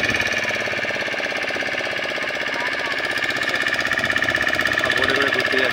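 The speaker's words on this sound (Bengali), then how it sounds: "এই দেখুন বোটে করে সব ঘুরতে যাচ্ছে" The motor of a tourist boat at Tajpur runs with a rapid, steady chugging drone, loud and close throughout with no break.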